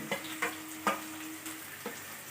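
Chopped ginger and green chilli sautéing in a pan for semiya kichadi, with a steady close sizzle and a few quick stirring scrapes spaced through the clip.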